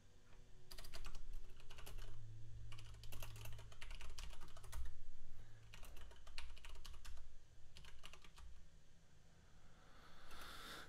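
Computer keyboard typing in irregular bursts of rapid key clicks, moderately close, with short pauses between runs over a low steady background hum.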